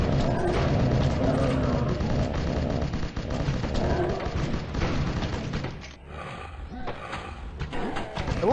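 Rapid automatic gunfire in a video game, dense bursts layered with explosions and roaring creature sounds, loud and continuous with a speaking voice over the action.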